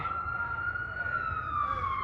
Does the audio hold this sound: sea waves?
no